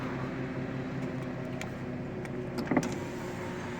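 A 2006 Nissan 350Z Fairlady coupe's power window motor whirs steadily from close by inside the car, with a few small clicks and a brief knock near the end.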